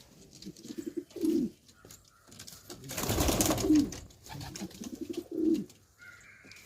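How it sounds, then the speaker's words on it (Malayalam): Pigeons coo close by in low, throaty phrases, three distinct bursts spaced a couple of seconds apart, with a brief rustling flutter in between. "പലതരം പ്രാവുകളുണ്ട് കേട്ടോ അവിടെ"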